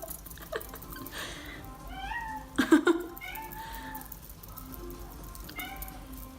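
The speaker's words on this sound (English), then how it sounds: "That's my cat, sorry." A domestic cat meows several times, close by, with drawn-out wavering calls and a louder yowl in the middle, against quiet background noise.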